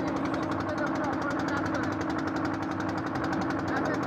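Boat engine chugging steadily while crossing the water to a ghat, a loud, rapid rhythmic knocking throb that continues unbroken under someone talking.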